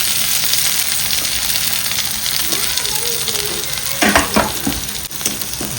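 Garlic and onion frying in oil in a kadai, a steady loud sizzle with occasional stirring scrapes and clinks near the end.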